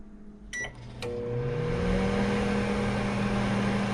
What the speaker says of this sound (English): put it back in for 47 seconds